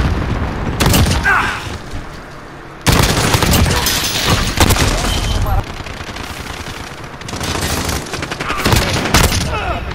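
Grenade blast and gunfire in the video game Call of Duty Modern Warfare, loud bursts of automatic shots and booms broken by short gaps, close and punchy, with quieter stretches between.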